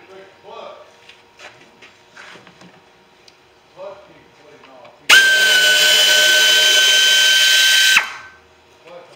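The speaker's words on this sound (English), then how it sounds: "Take these little bitty screws out around it." A power tool backs small screws out of the A/C case of a 2014 Jeep Grand Cherokee. Soft handling noises come first, then a loud, close, steady whine runs for about three seconds and cuts off abruptly.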